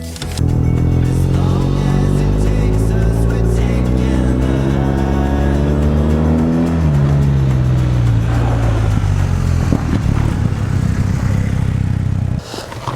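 A large 1250 motorcycle is towed by another motorcycle with a strap to push-start it. A steady, loud engine drone runs throughout, pitch rising and falling as it revs, with no talking.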